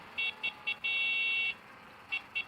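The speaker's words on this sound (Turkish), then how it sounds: "Korna." Short electronic car horn beeps in a mobile driving video game: three quick toots, one long sustained blast, then two more brief toots over a low engine-like rumble.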